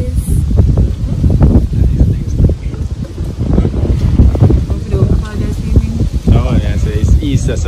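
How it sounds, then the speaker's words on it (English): Strong wind buffets the microphone in heavy rumbling gusts, with a voice talking faintly beneath the roar. "It's very windy now."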